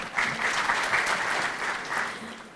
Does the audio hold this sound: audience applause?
yes